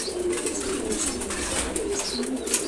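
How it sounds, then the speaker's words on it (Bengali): Domestic pigeons, including khaki and silver kaki birds, coo softly in a loft, with repeated low burbling calls close by and no talking. "খাকি কবুতর জোড়া, মাশাআল্লাহ, সিলভার কাকি"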